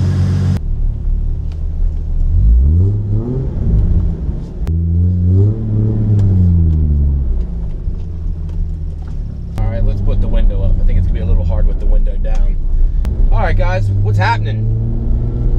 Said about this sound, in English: Gonna take the Supra for a drive today.